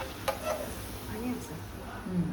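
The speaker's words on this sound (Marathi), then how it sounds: "चांगली तळते तू" Papad deep-frying in hot oil in a pan, a brief soft sizzle with a few light clinks and stirring sounds.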